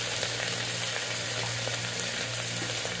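Onions sizzle in oil in a pot for goat leg soup, giving a steady, close, continuous frying hiss with faint stirring and no talk.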